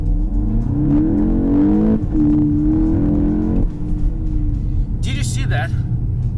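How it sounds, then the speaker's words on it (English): A VW Golf GTI Mk8 with a DSG gearbox in manual mode accelerates in first gear, its engine droning steadily from inside the cabin, then the pitch drops as it upshifts to second by itself, with a voice speaking over it. "First to second gear, even though I'm driving in manual, DSG has decided to upshift by itself."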